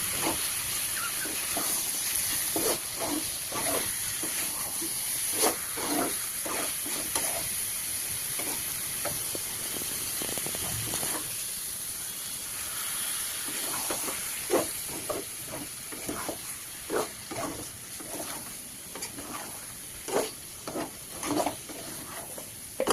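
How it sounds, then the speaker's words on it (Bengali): Water poured over frying spices in a pan produces a steady hiss and steaming sizzle, with repeated stirring scrapes throughout. "জল দিলাম এর মধ্যে, যাতে এই মশলাটা পুড়ে না যায়।"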